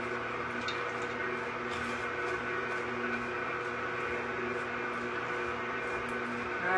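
An electric mixer beats cookie dough with a steady motor whine and hum, close and continuous, rising slightly in speed and loudness at the end.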